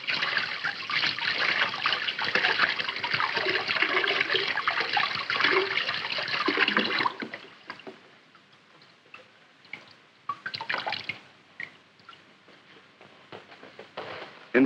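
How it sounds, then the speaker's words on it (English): Water from a hose sprays over Mylar insulation film, a loud rushing splash for about seven seconds, then it thins to scattered drips and trickles, with no talk. "So, we can simply hose it off."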